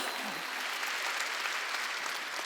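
A church congregation at a Wednesday worship service claps together in sustained, dense applause that fills the room evenly and loudly for the whole stretch, with no pauses.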